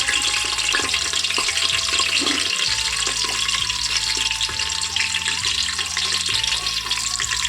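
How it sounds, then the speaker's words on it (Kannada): Onions fry in hot oil inside a cooker until golden, a loud, continuous hissing sizzle with a low steady hum underneath and occasional stirring knocks, no voices. "ಈರುಳ್ಳಿ ಚೆನ್ನಾಗಿ ಗೋಲ್ಡನ್ ಕಲರ್ ಬರೋವರೆಗೆ ಫ್ರೈ ಮಾಡ್ಕೊಳ್ಳೋಣ"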